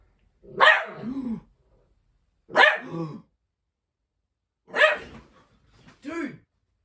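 A dog barks in four sharp, loud bursts spaced about two seconds apart, close to the microphone, with short pauses of quiet between them during a live trading stream.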